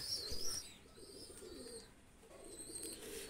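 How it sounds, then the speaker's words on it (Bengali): Running pigeons cooing softly and continuously close by, low throaty calls with faint higher chirps running over a steady background. "এই দুটো কামাগার কবুতর নিয়ে আসলাম"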